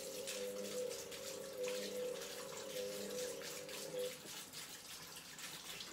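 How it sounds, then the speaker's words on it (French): Filtered water runs from a tap to rinse brined lupin seeds, a steady splashing stream with a humming tone that cuts off partway through and leaves faint drips and handling noise. "Je vais les nettoyer avec de l'eau filtrée."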